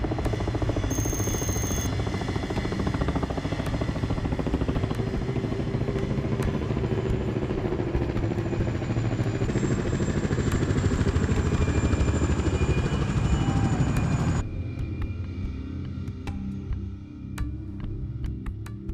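Inside an airliner cruising at night over the North Atlantic, a loud, steady engine drone with faint whining tones continues throughout, with light ticking and clatter on top and a drop in level near the end.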